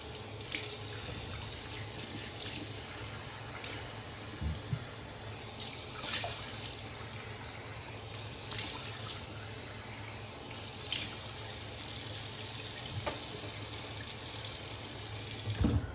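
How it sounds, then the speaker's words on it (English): Water runs steadily from a bathroom tap into a sink while a face is rinsed after a straight razor shave, a continuous close splashing flow with brief surges and small splashes, no talking. "I'm just going to rinse that off my face"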